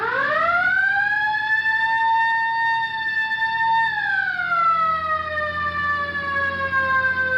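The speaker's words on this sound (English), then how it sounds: "All right, hit the siren." A police car siren wailing close by in a steady sustained tone, then gliding down in pitch partway through, loud and continuous without speech.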